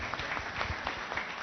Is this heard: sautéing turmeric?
no